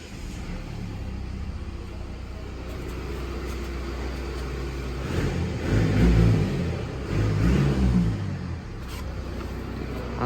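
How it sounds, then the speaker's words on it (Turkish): A Mercedes E-Class on German plates idles with a low rumble, then its engine is revved twice with the brake held, rising to a loud, rough roar each time as the car shakes. "Araba ne biçim bağırıyor ya?"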